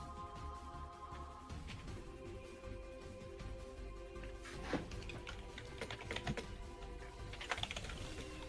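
Computer keyboard typing, a steady patter of light key clicks with a few sharper strikes, faint and continuous beneath a low background hum, with no voices.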